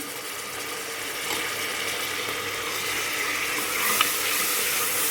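Chopped tomatoes sauté in a pan for a Thoothukudi-style goat lung gravy, giving a continuous broad sizzle that swells slightly partway through, with a brief brighter clink near the end.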